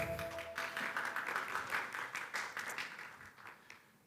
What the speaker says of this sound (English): Let's first give a round of applause for our judges.